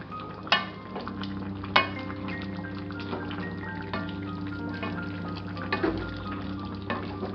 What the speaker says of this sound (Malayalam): നല്ലോണം ഒന്ന് ഇളക്കി കൊടുക്കാം.